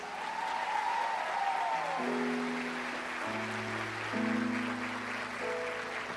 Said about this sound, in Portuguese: quero já acolher aqui o Padre José Eduardo, quero que vocês o acolham com uma grande salva de palmas.